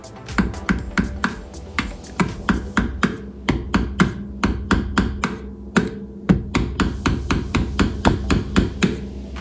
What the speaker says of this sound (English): you can take a Dollar Tree hammer and only use it for your apples